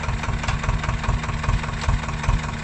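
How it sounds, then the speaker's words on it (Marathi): A diesel tractor engine idles nearby with a steady, low, rumbling throb that stays constant throughout. "उठ आणि ट्रॅक्टर आलाय तुझ्याकड"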